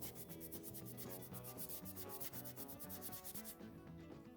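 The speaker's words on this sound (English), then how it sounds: "Let's see if we can get the Scotch-Brite down in there." Faint, quick back-and-forth scrubbing of a Scotch-Brite pad against the metal of a hydraulic cylinder during a rebuild, a close rhythmic rasp of rapid strokes with no talk.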